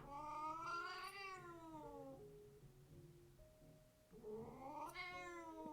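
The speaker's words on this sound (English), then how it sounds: "Okay, a cat video." A cat meows from a cat video playing in the background, two long drawn-out rising and falling meows separated by a quieter stretch, faint and somewhat thin.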